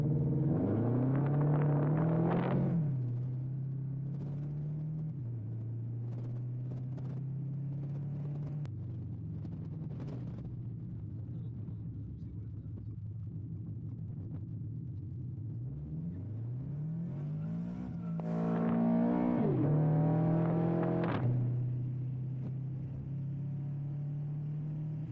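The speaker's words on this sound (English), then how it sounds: "It is so loud, yet it sounds so good." A Toyota GR86 with a loud modified exhaust revs hard at the start, settles into a steady, deep, rumbling idle, then climbs through another sharp rev before dropping back to idle. It is close and loud throughout.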